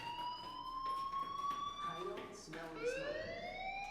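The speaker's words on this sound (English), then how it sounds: "Hey, do you hear that fire alarm? That means you should be outside." Electronic fire alarm in the video game Life is Strange, a shrill rising tone that sweeps upward, cuts off and restarts, sounding at moderate level with a broken, repeating rhythm.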